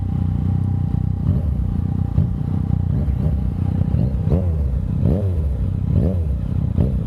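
A Yamaha FZ-09 motorcycle fitted with a Yoshimura exhaust pipe rumbles loudly and close, its engine note rising and falling as the throttle is worked during a ride, with some rattle and wind.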